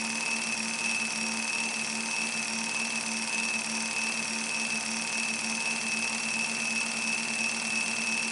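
A Kromrey generator with two armatures spinning at slightly different RPM gives a steady mechanical whine with constant tones and an even hum, continuous and moderately loud with no talk.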